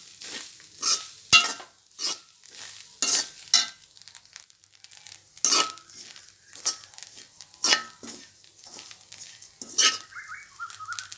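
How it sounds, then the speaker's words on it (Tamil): Coconut roasting to brown in a pan over moderate heat, stirred in a steady rhythm of about ten sharp scraping strokes with faint sizzling between them and no voices. "நல்லா பொன்னிறமாக மாற்றும் ப்ரௌன் கலரில் மாறுற வரையும் வறுத்துக்கலாம்"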